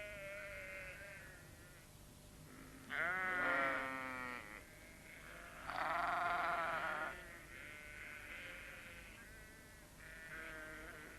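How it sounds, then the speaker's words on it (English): Sheep bleat in a snowy countryside scene from a 1987 children's animation, two loud wavering bleats close by with softer calls between them, no talk. "The sheep were glad to see them."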